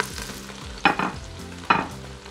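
Whole garlic heads and vegetables searing in hot oil in a pot for an Asian chicken ramen broth, a continuous sizzle with two sharp bursts as the food is stirred, close, no talk.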